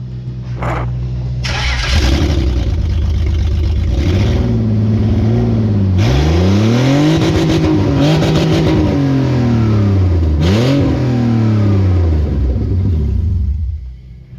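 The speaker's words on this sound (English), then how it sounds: "we've got the exhaust off, so of course we gotta, you know, go on, start her up" A BMW E46 engine with the exhaust removed starts and revs hard several times, a loud raw roar rising and falling in pitch, close by with no talking.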